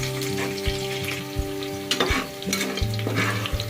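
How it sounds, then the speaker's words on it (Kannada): Sliced onions and green chilies frying in a pan, a loud close sizzle with spatula scrapes and knocks against the pan, alongside a steady tonal hum. "ಉದ್ದುದ್ದ ಹಚ್ಕೊಂಡಿರೋ ಈರುಳ್ಳಿ, ಇದು ಕೆಂಪಾಗೋವರೆಗೂ ಫ್ರೈ ಮಾಡಬೇಕು"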